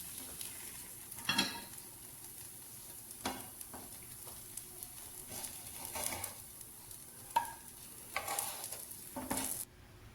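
Brinjal (eggplant) slices fry in a pan for a curd brinjal (dahi baigana) dish, giving a soft, steady sizzle broken by occasional spatula stirs and scrapes.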